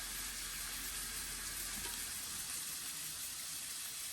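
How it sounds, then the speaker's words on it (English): Onions sautéing in coconut oil in a pan, a steady, soft, even sizzle throughout with no talking. "So I'll just go ahead and saute those onions down."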